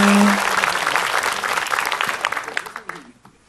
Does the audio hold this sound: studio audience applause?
yes